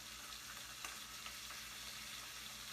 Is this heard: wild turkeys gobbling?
no